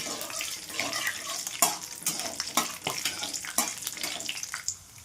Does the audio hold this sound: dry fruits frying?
yes